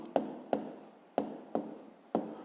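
Pen strokes on paper while working a fifth-grade math exercise, five separate short scratchy strokes with a sharp start that fades quickly, close and fairly quiet, no talk.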